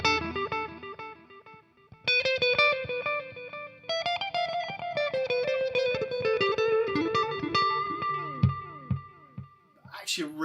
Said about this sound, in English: So it's a nice digital kind of delay.